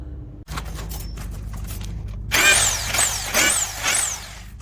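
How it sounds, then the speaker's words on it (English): A power drill bores through a metal cable gland plate, with several short whining bursts of drilling, near and moderately loud, following quieter workshop noise. "Right, gland plate drilled,"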